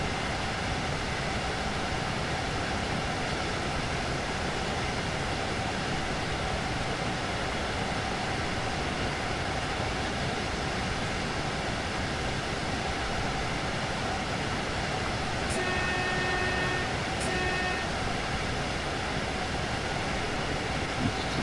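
A train coasts in Train Sim World 2 on the Finnentrop–Hagen–Wuppertal line, giving a steady, dense rolling roar with no power applied, loud and unbroken for the whole stretch, with a few faint high tones near the end.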